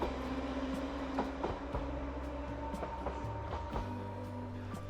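A steam train approaches the Smallbrook station platform after travelling from Wootton through Haven Street, giving a steady, close rumble broken by repeated rhythmic clicks from the wheels.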